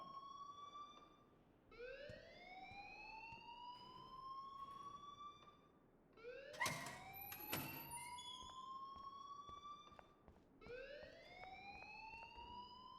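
A video game alarm sounds alone in repeated rising sweeps, several tones gliding upward together, pausing briefly between cycles with a couple of sharp clanks near the middle.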